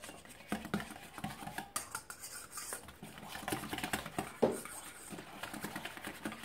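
Chopped peppers being stirred in a bowl for a pepper gratin, with close, soft scraping and clinking of a utensil against the dish in an irregular rhythm.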